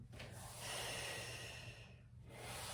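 Breath drawn in and let out during a Pilates exercise with a mini stability ball, one quiet close airy inhale flowing into a softer exhale, faint against a low background hum, with no talking.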